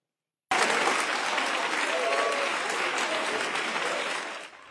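Sustained, dense applause from a crowd forming a guard of honour for department heads at a French public hospital, starting abruptly and holding steady before easing slightly at the end.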